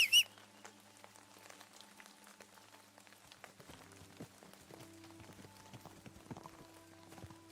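Horse hooves in Kingdom Come Deliverance 2 clop in a quiet, steady rhythm over soft sustained game music, fairly faint and continuous throughout.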